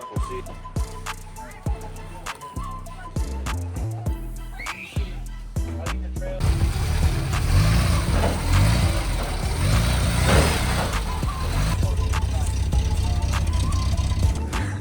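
Porsche 924 engine started and running while the car is loaded onto a trailer, a rough mid-pitched engine rumble that sets in partway through and holds steadily, with clicks and handling noises before it and a voice talking at times.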